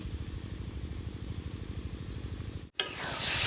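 Taro leaves cooking with egg in a pan, a steady low rumbling sizzle with a regular pulsing stir rhythm that cuts out abruptly and gives way to a brighter, hissier frying sound.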